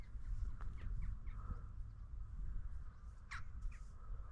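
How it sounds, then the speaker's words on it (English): Crows caw several times overhead, a flock of birds in the air during a crow shoot, with harsh calls scattered at moderate distance over steady low wind rumble. "there's a lot of birds in the air"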